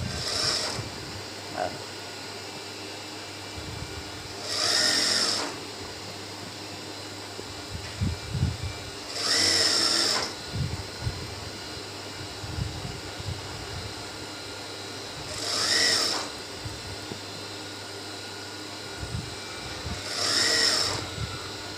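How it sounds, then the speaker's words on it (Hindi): A sewing machine stitches small baby trousers in short separate runs, each about a second long, spaced roughly five seconds apart, with quiet handling noise in between. "ऐसे खींच के सिलाई लगानी है इसके ऊपर इस तरीके से"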